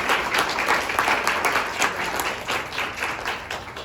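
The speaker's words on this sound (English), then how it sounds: "let's just give her another round of applause" A crowd at a national grant celebration claps together in a steady, moderately loud round of applause that continues evenly from start to finish with no speech over it.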